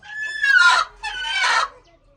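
Two drawn-out hen calls, loud and close, follow each other with a brief pause, then quiet.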